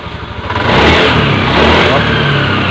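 A Honda Beat FI ESP scooter engine (2016–2019 model) with a sputtering, stalling fault is revved up from a lower idle, holding a loud, rough, close drone after the rise.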